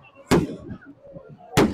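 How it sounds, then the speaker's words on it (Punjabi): Fireworks set off at a crowded Dussehra ground during Ravan Dahan, two loud sharp bangs about a second and a quarter apart with crackling and murmuring crowd noise between them. "ਆਤਿਸ਼ਬਾਜ਼ੀ ਲਗਾਤਾਰ ਚਲਾਈ ਜਾ ਰਹੀ ਹੈ"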